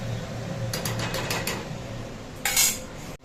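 Spices being stir-fried in oil in a pan, with a soft background sizzle, a run of quick metal spatula scrapes and clinks, then a sharper scrape near the end.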